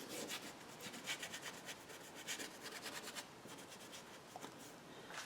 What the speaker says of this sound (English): I'm just going to scuffle or scumble is the term, I think, in my foreground.